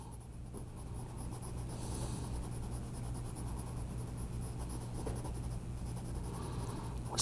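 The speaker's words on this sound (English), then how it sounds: "it's really hard drawing with that pencil." Pencil scratching steadily across paper while sketching lips, a close, continuous dry rubbing with faint hum beneath and no talk.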